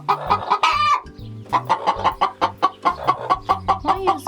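Hens in a chicken coop cluck in quick, repeated bursts up close, with a rising squawk near the start and then a steady run of choppy clucks.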